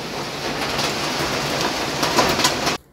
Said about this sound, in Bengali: এই যে তুমুল বৃষ্টি শুরু হয়ে গেছে।